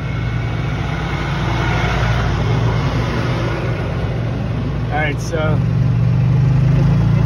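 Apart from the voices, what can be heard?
electric hybrid golf cart engine revving as it pulls out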